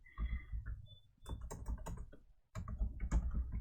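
Steady bursts of computer keyboard typing while code is entered, close and fairly loud, with dense rapid key clatter broken by a brief pause near the middle.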